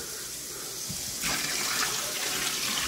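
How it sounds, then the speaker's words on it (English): Cold water gushes and splashes over cotton rope in a bin for dyeing, close and steady, growing fuller and louder partway through as the flow strengthens. "So we're just going to keep putting cold water on here and till this rope is covered"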